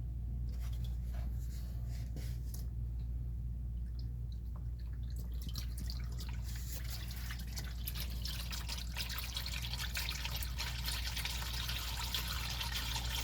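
Used engine oil drains from a 2019 RAM 1500 Rebel 5.7L V8 after an engine flush, a steady liquid trickle and drip under a constant low mechanical hum, with the flow growing brighter and fuller partway through.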